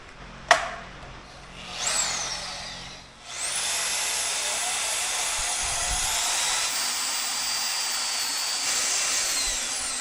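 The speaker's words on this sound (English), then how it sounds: "I'll just take my bandsaw, my portaband, and run right across it" Portable bandsaw starts with a click and brief whine, then settles into a steady high-pitched grinding buzz as the blade cuts through a junkyard steel axle, sustained and close with no talking.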